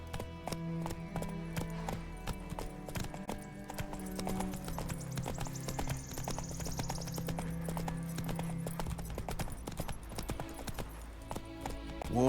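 A horse in The Witcher 3 clip-clops along at a brisk, even gait, close and distinct, with a brief whinny-like tone near the start and game music underneath.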